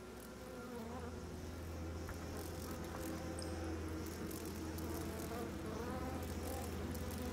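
Swarm of flies buzzing in the horror video game Outlast 2, a dense, steady insect drone over a low hum that fills the whole stretch without letup.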